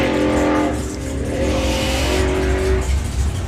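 A supercharged outlaw hot rod at a drag strip, engine roaring steadily with tire squeal as the car slides sideways, heard at a distance over broad track noise.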